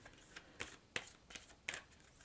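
Oracle cards from the Angel Answers deck being shuffled by hand give soft, papery riffles and taps in a few quick bursts, close and fairly quiet.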